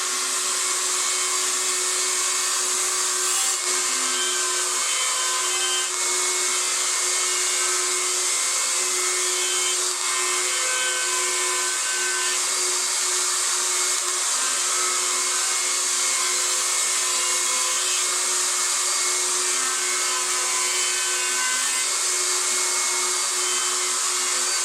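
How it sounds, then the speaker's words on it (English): A router table cuts a 45-degree chamfer around a wooden cutting board, a loud, constant high-pitched motor whine with a steady tonal hum and no breaks, close and alone throughout. "now we're over here at the router table. We're going to cut a 45-degree chamfer all the way around both sides."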